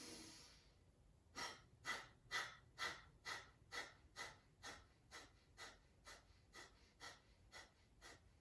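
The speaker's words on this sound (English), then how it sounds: "we'll be exhaling out the nose rapidly" Kapalabhati breathing: rapid forceful exhalations through the nose, about fourteen sharp evenly spaced puffs after an initial inhale, close and fairly quiet with no talk, fading slightly toward the end.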